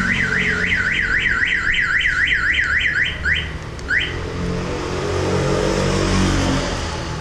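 An aftermarket car alarm on a Seat Altea, set off by vibration, wails in a fast rising and falling siren pattern, loud and close, then cuts out with a brief chirp, leaving engine-like rumble behind.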